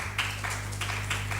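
A small audience at a gender equality conference claps for an arriving presenter: a few scattered, rhythmic claps over a low electrical hum.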